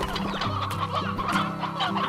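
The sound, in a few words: hens clucking in video game Slime Rancher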